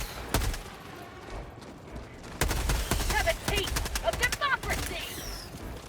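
An automatic machine gun fires in Helldivers 2 against a bug breach, in ragged bursts of rapid shots over busy game noise. Some of the fire is dense and some is scattered, at moderate loudness.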